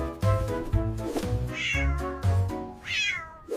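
A cat meows several times in a row, close and clear, with drawn-out, wavering cries and short pauses between them.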